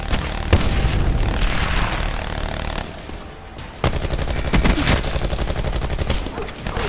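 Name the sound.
turret gun firing in video game Call of Duty Black Ops 4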